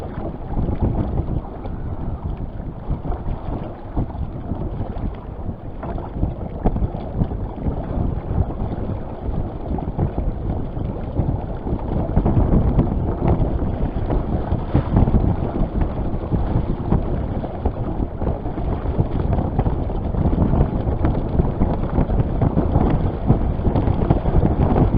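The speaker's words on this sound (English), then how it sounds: "the winds have really picked up" Strong wind blasting across a microphone aboard a sailboat tacking near a marina cove, with the mainsail let out far. It makes a continuous loud roar and rumble that strengthens partway through, with the rush of water underneath and no talking.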